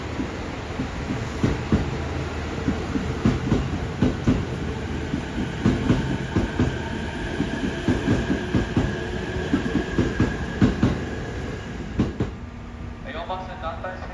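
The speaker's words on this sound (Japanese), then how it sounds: "4番線には団体専用列車が到着しております。" A group charter train pulls in at platform 4 of a Japanese station on the Joban line, a steady loud rumble of wheels and clattering rail joints lasting throughout, with a station announcement voice over it.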